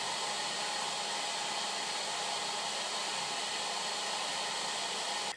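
A hair dryer hangs facing a green-screen setup, blowing to imitate wind ruffling quetzal feathers: a steady, loud, even rush of air that holds unchanged from start to finish and cuts off abruptly at the end.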